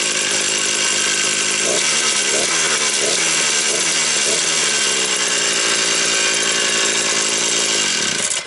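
Alpina ABR 42 D petrol brush cutter, clutch removed, idling and running steadily without being revved, a loud continuous two-stroke buzz close by with no talk.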